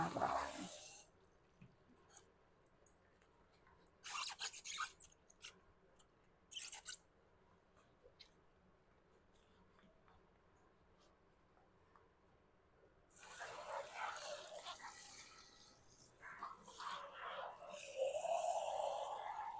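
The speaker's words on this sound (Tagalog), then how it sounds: "pinupunasan ko muna itong buong sink namin para malinis din siya" Running water pours into a kitchen sink while the basin is wiped and washed. Bursts of splashing and faucet flow come in and out, with quieter gaps in between, and a longer, louder stretch of flowing water near the end.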